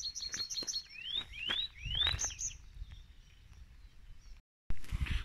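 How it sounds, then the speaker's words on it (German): Songbirds chirp and trill in a rural landscape during rain, several bright repeated rising whistles and tweets close by over a soft patter, fading before a brief gap and a burst of rustling. "die Vögel zwitschern"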